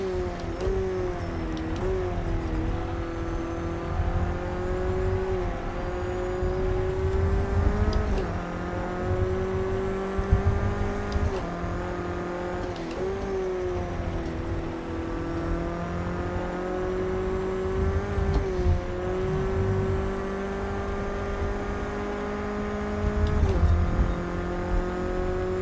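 Race car lap in the Project Cars 2 video game during online racing, a steady high engine whine rising and falling through repeated gear shifts over the whole lap, loud and continuous with no talk.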